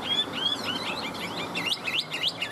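A hwamei songbird sings a lively run of clear, rising whistled phrases and chirps, close and prominent over light background noise.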